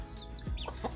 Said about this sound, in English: They can be a noisy bunch.